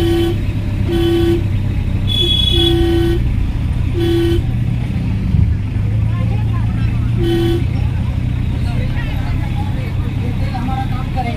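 A two-speaker car horn honks in several short blasts, single-toned when one speaker sounds and fuller when both do, over a running engine and background noise.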